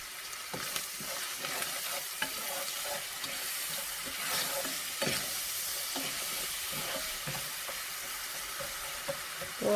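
Food sizzles and fries steadily in a pan while it is stirred, with a constant hiss and scattered scraping strokes throughout.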